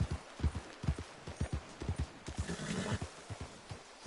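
Horse hooves clip-clop at a steady walking rhythm in Red Dead Redemption 2, close and distinct over a low ambient background, with a brief rougher swell midway.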